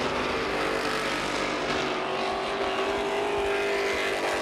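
Limited stock cars race around Virginia Motor Speedway during qualifying. Their engines roar loud and continuous as several cars pass close by, with a bit of tire noise and no voices.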